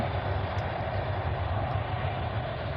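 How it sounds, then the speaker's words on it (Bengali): A train crossing near the Postogola bridge at Keraniganj overbridge, about a kilometre off, gives a steady, heavy roaring rumble that fills the whole stretch without a break. "ট্রেনটি এখনও চলে যাচ্ছে"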